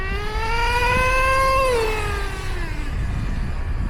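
A cat meowing outdoors, one long drawn-out tonal meow that holds steady and then bends downward, clear over a constant low engine-like rumble beneath.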